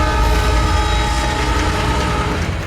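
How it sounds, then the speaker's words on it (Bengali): A train passes through a tunnel with a loud, close, continuous rumble and sustained horn-like tones that fade slightly toward the end. "ট্রেন সুড়ঙ্গ দিয়ে যাচ্ছিল"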